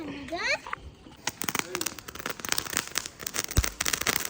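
Diwali firecrackers go off in a village, a run of sharp cracks and pops at varying distances, with children talking and a voice at the start.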